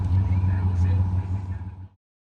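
A 1955 Chevrolet two-door post runs at a nostalgia eighth-mile drag race in Madras, Oregon, its engine a loud, steady low rumble that cuts off abruptly after about two seconds.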